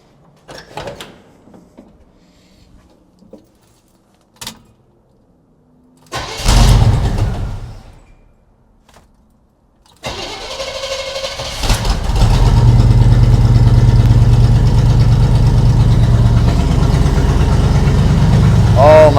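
An old squarebody plow truck engine cranks with a short burst after some faint knocks and clatter, then catches on a second try and settles into a steady, loud, rumbling idle.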